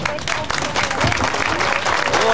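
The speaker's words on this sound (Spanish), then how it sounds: "Un gran aplauso a ellos por acompañarnos esta tarde" An audience at a community afternoon gathering in Santa Ana gives a loud, steady round of applause, dense and continuous throughout, with a faint murmur of voices mixed in.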